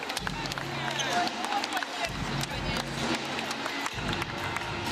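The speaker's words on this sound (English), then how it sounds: "You see both teams applauding, the fans here in Strasbourg, France." Teams and fans applaud at the end of a women's EuroBasket 2021 game between Russia and the Czech Republic in an arena in Strasbourg, France. A commentator talks over the steady crowd clapping and hubbub, and sneakers shuffle on the court.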